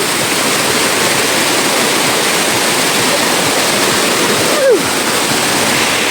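Loud, continuous rushing sea water fills the scene, a dense steady roar like surf or a strong current, with a brief faint squeak near the end.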